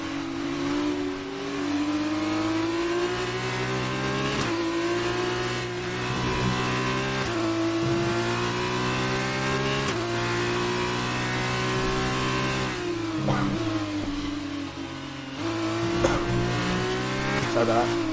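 Race cars in an F1 2019 video game Formula 2 race at the Hungarian circuit roar steadily, engines rising and falling in pitch as they shift through gears, with faint tire squeal throughout.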